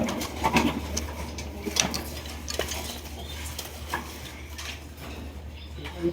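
Red-coloured gola pigeons coo in a low, continuous rumble, joined by a few sharp clinks like metal or dishes being knocked, with no clear speech.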